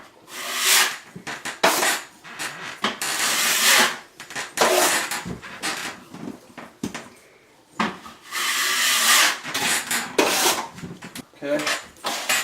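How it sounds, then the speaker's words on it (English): A drywall scraper spreads spackle across a wall in repeated scraping, rubbing strokes that come in bursts with short pauses between them, close and fairly loud. "Get some spackle put on there. Spread it on there, hold it at about a 45-degree angle."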